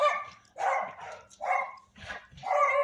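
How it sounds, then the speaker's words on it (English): Several dogs barking at a bulldog in a backyard, repeated loud yapping barks in irregular bursts of two or three, close by with short gaps between them. "the dogs are barking at the bulldog back there."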